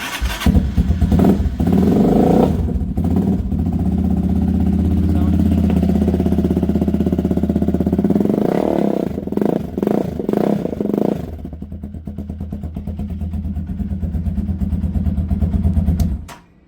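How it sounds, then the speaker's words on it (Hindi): A Superstar 200R motorcycle fitted with an Akrapovic exhaust revs and idles nearby, its engine swelling in bursts of loud throaty roar before settling into a rough, pulsing idle, with someone talking over it. "अक्रापोविक का साउंड आपको मैं टेस्ट करवाता हूँ"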